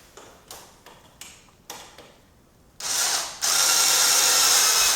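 Cordless screwdriver driving screws into IKEA Molger bathroom shelving: several short ratcheting bursts, then a loud sustained whirr of the motor spinning a screw home, close and clear with no talk.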